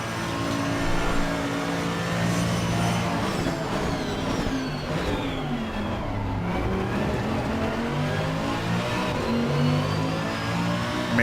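A GT2 race car engine revs hard in a racing game, a loud continuous roar with rising and falling harmonic sweeps as it accelerates and shifts, heard alone without speech.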